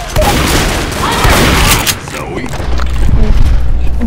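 Rapid, loud gunfire rattles almost continuously during a Left 4 Dead No Mercy co-op run against zombies, with dense overlapping shots and booms.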